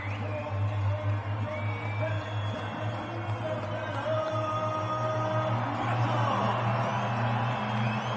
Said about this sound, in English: That is what a home crowd sounds like.